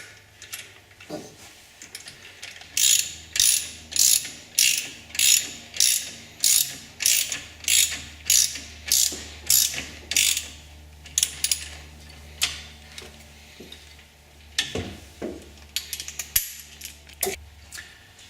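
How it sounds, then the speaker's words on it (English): A ratchet threads in an alternator mounting bolt on a custom classic car, a close, crisp clicking run in a steady rhythm of about fifteen strokes, followed by a pause and a few scattered clicks and handling noises. "Now we're going to thread in the bolt, but not tighten it all the way."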